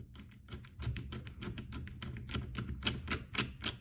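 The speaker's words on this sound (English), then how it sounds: "Now I'm putting the keycaps back onto the top of the key stems." Keycaps pressed one after another onto the key stems of an IBM Model M keyboard, a close series of sharp plastic clacks and taps in an uneven rhythm, growing louder toward the end.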